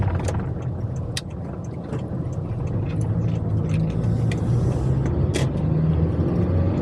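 Steady road rumble from inside a moving vehicle on a road with small speed bumps, with a few sharp knocks and jolts as the tires roll over them, recorded on an Insta360 Go 2 camera.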